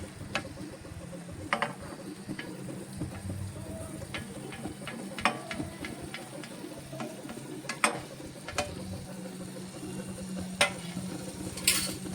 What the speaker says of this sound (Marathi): हा टॉमॅटो घालून व्यवस्थित मिक्स करायचं